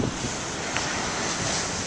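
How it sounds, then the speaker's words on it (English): Big ocean waves surging onto the shore make a steady, loud broadband roar, blended with gusty wind buffeting the microphone, with no voices heard. "I think it's a real pleasure to come here to videotape the waves."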